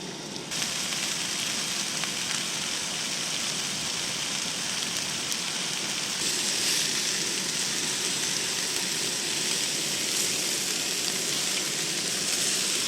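Oil sizzling loudly in a pan at a camp stove during an overlanding trip in a Jeep, a dense continuous frying hiss that starts abruptly and holds steady close to the mic.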